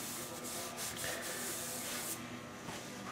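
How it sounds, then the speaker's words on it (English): Hand sanding across a grooved, dented surface, a steady close rasping scrape that continues through the whole moment with no voices. "A little more sanding on my line there."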